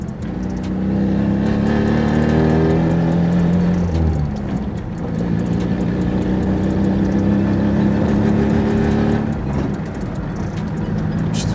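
A car pulls away and drives in third gear on wheels coated with LineX protective coating: a loud, steady engine drone with rising revs, heard close from inside the vehicle with no talking.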